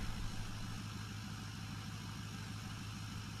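A tractor engine idles at close range with no load, unhitched from a blower, giving a steady, even low rumble that holds unchanged throughout.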